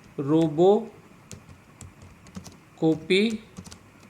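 Computer keyboard keys clicking lightly while commands are typed for Windows file copying, soft taps between two short bursts of talking.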